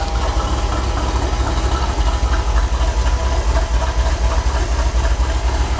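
A Ford 351 Cleveland V8 in an F350 truck runs steadily, a loud, close, continuous rumble with an even, slightly lumpy pulse throughout.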